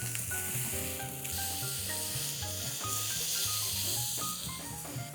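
A beef smash burger patty sizzles hard on a hot griddle, steady dense hiss and crackle throughout, close and fairly loud, with no voices over it.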